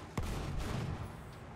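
A pulse weapon fires once in a first-person shooter, a sharp close blast that trails into a rumbling decay, followed by softer muffled game sounds.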